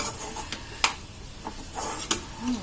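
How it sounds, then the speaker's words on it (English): Chicken with banana flower being stirred in a pan, a few sharp clinks and scrapes of a spoon against metal over a faint sizzle. "Now give a final stir."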